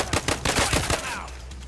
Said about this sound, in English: Semi-auto fire.